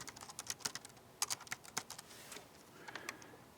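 Keys on a computer keyboard tapped in irregular quick bursts, close and fairly quiet, with short pauses between strokes and no one talking.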